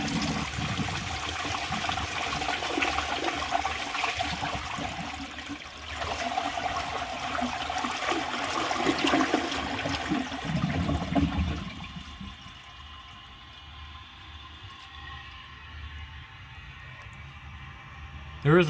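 A 1964 Gerber Mt Vernon toilet flushing a washcloth and a grocery bag together, with a loud rushing swirl of water that drains and then tapers to a quieter trickle and tank refill.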